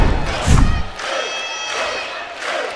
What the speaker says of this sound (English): Built-in cheering section on the bench for Hawaii.